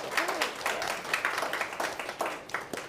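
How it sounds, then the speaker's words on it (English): An audience applauds panelists after a discussion on data-driven student advocacy, a steady wash of moderate clapping from many hands across the room, with no voices over it. "Can we give them a round of applause?"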